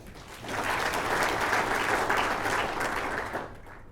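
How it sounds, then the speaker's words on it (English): A crowd at the 2014 Australian Medical Association National Conference breaks into dense, sustained applause that swells and then fades out after a few seconds. "We'll give him a round of applause anyway."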